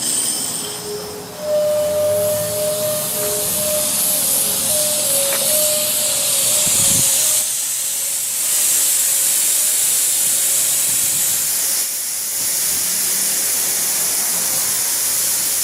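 Compressed air blows out an inground sprinkler line in a loud, continuous hiss and rush that surges at the start, with a brief whistling tone early on and later level changes as the flow varies.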